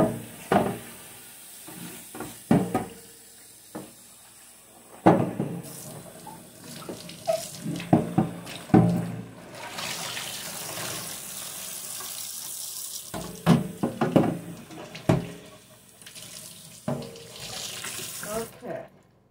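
Tap water runs into a tub as fridge parts are washed, with intermittent splashing, clatter and swishing close by, and the flow strengthens midway through.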